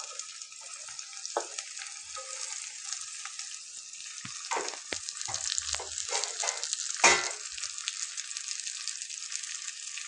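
Pointed gourd (parvar) frying with browned onions in a pan gives a steady, close sizzle. Brief scraping stir sounds come through in the middle.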